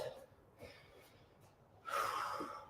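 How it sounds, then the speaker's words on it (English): A brief breathy snort followed by a louder, noisy nasal blast as a nose is blown close by, with no talking. "I have to blow my nose."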